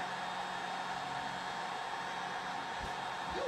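A hair dryer blows steadily on a milk jug skull, a loud continuous airy roar with no break.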